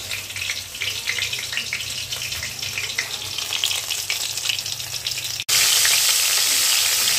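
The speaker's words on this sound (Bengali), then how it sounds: "পটলগুলোকে দেখো কড়াইয়ে তেলে দিয়ে দিয়েছি। এবার এটাকে লাল লাল করে এইভাবে ভেজে নিতে হবে।" Pointed gourds frying in oil in a wok, giving a steady close sizzle with light stirring, then a sudden louder hissing burst toward the end.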